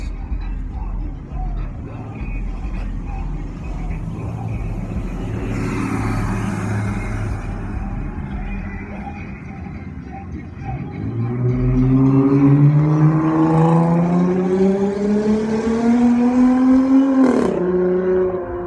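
Car engine heard from inside a vehicle overtaking another on the road: a steady drone that climbs into a loud rising acceleration whine, easing and swelling again near the end, with brief talk early on.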